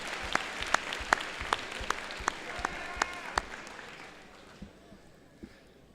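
Clapping from the audience at a FIRST robotics competition alliance selection, with a few sharp, distinct claps standing out over a steady patter that fades toward the end.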